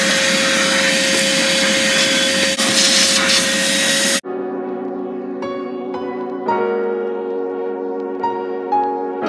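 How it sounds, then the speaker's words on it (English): A vacuum cleaner runs while cleaning a car seat, giving a loud, steady motor whine for about four seconds. It then cuts off and gives way to quieter, shifting tonal sounds and faint clatter. "So I got the vacuum."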